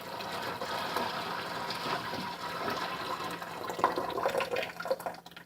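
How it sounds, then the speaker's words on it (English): Hot water poured out of canning jars while canning potatoes, a continuous splashing gush that swells and turns more gurgly toward the end, with no talk. "Remember that when you pour the water, you're going to pour it through the big hole."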